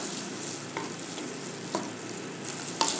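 Onion and garlic sauté with corn kernels being stirred in a pan, a steady soft sizzle broken by a few light scraping stirs of the utensil, close and fairly quiet with no talking.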